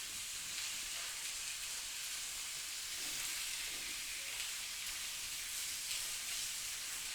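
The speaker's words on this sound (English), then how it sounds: "The garlic is roasting in here." Garlic sizzling and frying in a pan, a steady close hiss of hot oil that holds evenly throughout with no talking.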